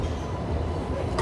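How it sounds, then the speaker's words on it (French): A metro train rumbles through a city centre, a loud, steady low roar of rolling wheels and carriage noise with a brief brighter hiss near the end. "Sympa le métro, très propre."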